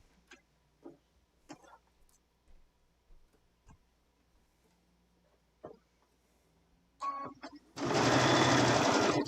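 A sewing machine stitching fabric for a scissor keep, a loud steady whirring run near the end, preceded by scattered ticks, taps and handling noises.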